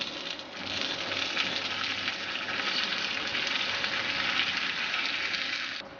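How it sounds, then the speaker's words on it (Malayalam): Curry leaves hit hot oil in a pan as tempering for Onam Sadya pulissery, with the gas already off, setting off a loud, steady, hissing sizzle that swells after a moment and holds close and continuous without any voices. "ഗ്യാസ് ഓഫ് ചെയ്ത ശേഷം ഈ കറിവേപ്പില ഇട്ട് കൊടുക്കാം"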